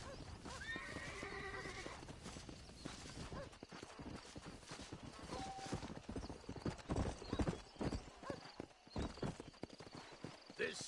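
A wild horse in the Western game Red Dead Redemption clip-clops with brisk, irregular hoofbeats and lets out a whinny, while characters talk over the hooves.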